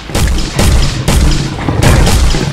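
Heavy gunfire in the Finding Bigfoot video game booms out as four loud, evenly spaced shots about half a second apart, each with a short rumbling tail, close and dominant.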